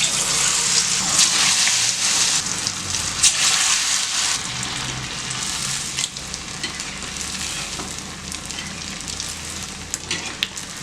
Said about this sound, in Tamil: இந்த உருண்டைகளை உருட்டி நம்ம இதுக்குள்ளே போட்டு இப்போ எண்ணெயில் போட்டுடலாம்.